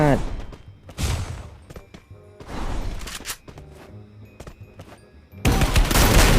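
Gunfire rattles in the Free Fire battle game, in bursts of rapid automatic shots and single cracks spread across the clip, loud and close, with a player talking between them.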